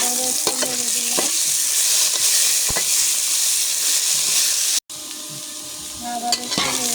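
Hilsa fish fries loudly in a pan with turmeric while it is stirred until reddish, a constant close sizzle broken by scraping strokes. The sound drops out for a moment near the end.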